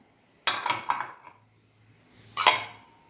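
Batter with cornstarch being stirred in a bowl, heard as two short bursts of clinking and scraping utensil strokes against the dish, separated by a quiet pause, close and fairly loud.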